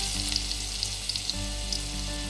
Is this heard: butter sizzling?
yes